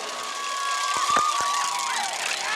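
Crowd cheering and shouting fills a packed Mexican charreada arena, a dense continuous roar with a few sharp whistles rising over it, steady and fairly loud throughout.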